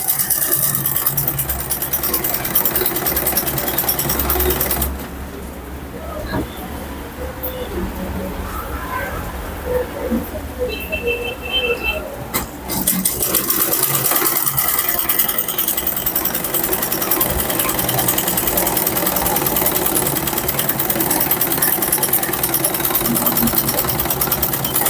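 A sewing machine stitches turban fabric in a close, rapid mechanical whir. It pauses briefly midway, then resumes running steadily to the end.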